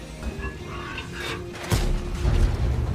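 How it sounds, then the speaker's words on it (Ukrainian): A tank shell strikes and punches through armor in World of Tanks, with a sharp, heavy impact boom landing partway through, following a quieter stretch of mechanical rumble and low engine drone. "Броню пробито. Ціль уражено."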